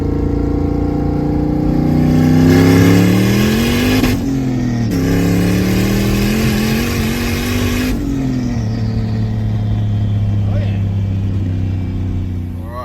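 A turbocharged LS-engined car pulls hard in second gear on a boost setting around 9 psi, its engine note climbing steadily past 6,000 rpm, easing briefly, then climbing again before settling to a lower drone.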